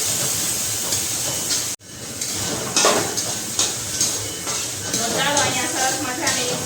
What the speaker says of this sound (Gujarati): હવે આપણે એમાં નાખશું આ ટમેટાની ગ્રેવી ટમેટાની ગ્રેવી નાખશું